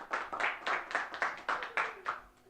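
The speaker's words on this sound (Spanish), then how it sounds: "Deme un aplauso al Señor si está entendiendo lo que estoy diciendo." Congregation clapping in rhythm during a Spanish-language church sermon, about nine even, sharp claps in quick succession, fairly faint and unaccompanied by speech.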